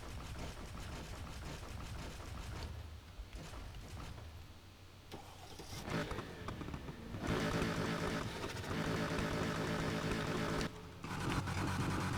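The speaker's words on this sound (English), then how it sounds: "listen to that Mopar burble that it has" A Mopar car engine in the video game Need for Speed Heat burbles low and steady, rising louder partway through with a rough, throaty idle and some mechanical clatter.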